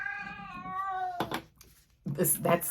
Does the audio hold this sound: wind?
no